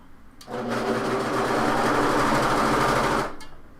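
A serger runs one quick seam, a single continuous burst of fast, whirring stitching lasting about three seconds, close and steady, starting and stopping cleanly with no speech.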